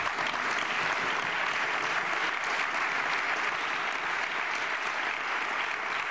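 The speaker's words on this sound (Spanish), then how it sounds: "como de José Antonio Pérez Tapias, a los cuales os pido un aplauso." Audience applause for a party speech, steady and dense clapping from a large crowd that holds evenly throughout without voices over it.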